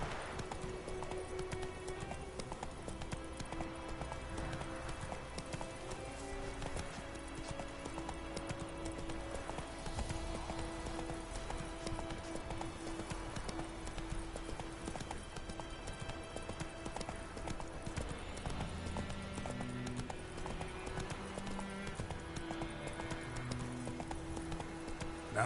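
The horse Roach gallops in a video game, its hooves clip-clopping in a quick, continuous rhythm over a low game soundscape, with occasional whinnies.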